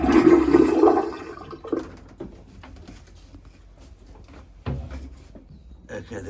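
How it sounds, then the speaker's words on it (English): Bidet on a sailboat flushed with water: a loud rushing gush for about a second and a half, then quieter gurgles and clunks, with a second burst near the end. "let's check the bidet."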